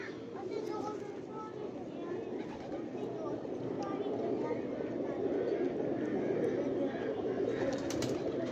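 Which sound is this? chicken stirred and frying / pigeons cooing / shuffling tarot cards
pigeons cooing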